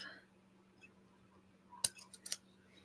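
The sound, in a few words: scissors trimming dollhouse miniature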